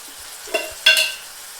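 Diced tomatoes with turmeric powder and salt frying in a pan, two brief scraping stirs over a soft steady sizzle, close and fairly quiet.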